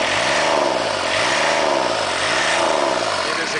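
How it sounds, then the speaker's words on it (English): A car engine in an XR3 build, run after sitting unused for years, revs up and down repeatedly, its pitch rising and falling in three close, loud, rhythmic sweeps with no talk. "it is accelerating as it should, and it's making good power"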